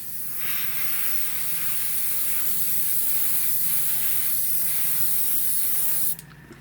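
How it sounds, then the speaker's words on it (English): Kaleido Colorworks paint sprays in a steady, close hiss for about six seconds without a break, then cuts off sharply at the end. "That's sprayed on very nicely."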